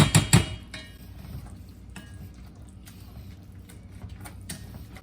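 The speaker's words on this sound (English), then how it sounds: "Give that a good mash. Break that butternut squash down a little bit." A potato masher works cooked butternut squash in a pot: a couple of sharp metal clanks open, followed by soft, wet squishing and occasional light knocks against the pot, close and quiet.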